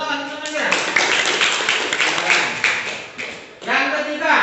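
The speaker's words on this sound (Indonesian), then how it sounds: "Tepuk tangan semuanya." A classroom of students applauds for about three seconds, a dense, steady burst of many hands clapping. A voice speaks just before and just after it.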